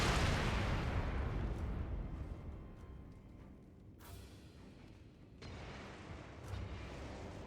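Gunpowder explosions in Elden Ring at Stormveil Castle: a heavy boom opens loud and close, then rumbling debris and crackling fade before sharper blasts pop again near the end.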